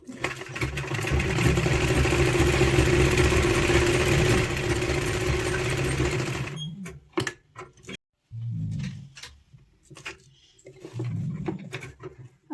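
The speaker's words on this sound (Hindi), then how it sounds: "तो आगे के फ्रिल को सिलने के लिए सबसे पहले हमने यहाँ से स्टार्टिंग करनी होगी।" Sewing machine stitching the frill of a small child's party dress, a loud continuous whirring run for several seconds, then shorter bursts of stitching separated by pauses and light handling noises.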